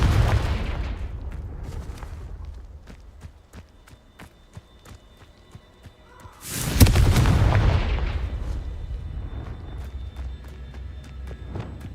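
A Confringo blasting spell in Hogwarts Legacy sets off a sudden loud explosion midway that rumbles and fades. Softer combat thuds and impacts come before and after it.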